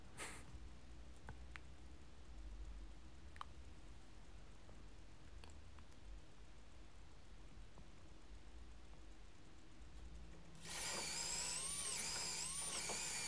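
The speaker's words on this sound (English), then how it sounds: "I'm drilling for our dowels in the half flaps" A drill bores dowel holes into the half flaps of a walnut dining table, starting suddenly and loudly near the end after a long, quiet stretch of faint room noise.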